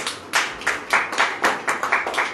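A congregation claps in rhythm during a Hindi-language Christian sermon, a run of sharp, evenly spaced group claps close by and loud, with no talking over them.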